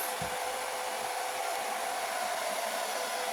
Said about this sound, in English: it's just helpful to have them be used to a blow dryer, and the sound of it can be scary